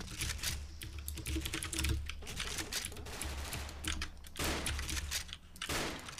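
Rapid, crisp clatter from a Leopold mechanical keyboard fitted with blue switches during Special Force gameplay; keystrokes pile up in quick, uneven runs close to the mic with game noise behind.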